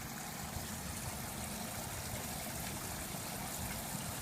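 Water in a home aquaponics system is pumped up a pipe to a manifold and sprayed into four grow beds, giving a soft, steady hissing trickle and rush that stays constant with no talk.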